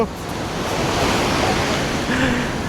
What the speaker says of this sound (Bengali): শুধু ঢেউগুলো দেখো